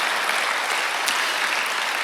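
Congregation applause during a Korean church Sunday worship service, steady dense clapping from a large crowd filling the whole moment without pause.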